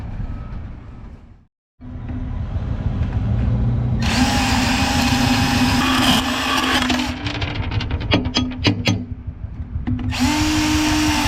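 Power tool cutting metal pieces for a dozer track bolt repair, a steady loud grinding whine that breaks off briefly, then resumes with shifting pitch and rattling bursts before a final sustained cut.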